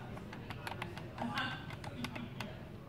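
Quick, light clicks of keys being pressed on a ShoreTel IP480g IP phone keypad while dialing a number, a rapid irregular series of soft taps under a faint background hum.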